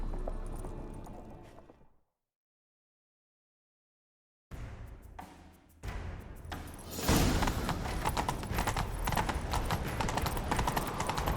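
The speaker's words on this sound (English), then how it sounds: "Grab a horse, we'll chase him down." Hooves clatter in a rapid rhythm after a brief silence, building into a loud horse gallop under dense, busy game sound effects in The Witcher 3: Wild Hunt.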